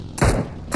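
Two sharp gunshots ring out close and loud in a video game shooter, a brief pause between them.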